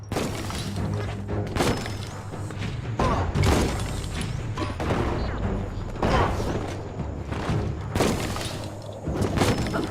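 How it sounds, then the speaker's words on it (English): Bomb lobber blasts in the video game Biomutant, several heavy booming explosions with crashing debris recurring every couple of seconds, loud and close against a rumbling game soundscape. "That's a bomb lobber."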